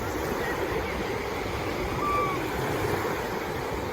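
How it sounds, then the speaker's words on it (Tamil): Sea waves wash steadily onto the beach at Saint-Malo, France, a continuous broad rushing roar with wind noise on the microphone and a faint voice beneath. "பின்னால் அலை வருது பாருங்க"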